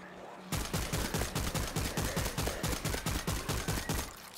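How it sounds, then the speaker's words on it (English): Automatic turret firing steadily at zombies in World War Z: Aftermath, a fast, even rhythm of loud gunfire bursts that starts abruptly and keeps going without pause. "Auto turret running."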